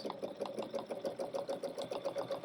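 A sewing machine stitches a quilt with a rapid, even mechanical whir and pulsing needle rhythm, close and steady throughout.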